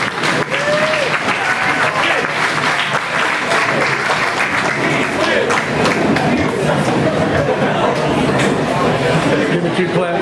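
A crowd at a high school athletics awards banquet claps and cheers loudly for the boys basketball team, a dense continuous roar of hands with scattered shouts and chatter.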